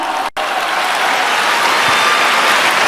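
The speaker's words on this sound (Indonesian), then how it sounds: "Tepuk tangan, semangat semuanya." Crowd applause after a speech, a dense, loud and unbroken roar of many hands clapping, with one momentary dropout near the start.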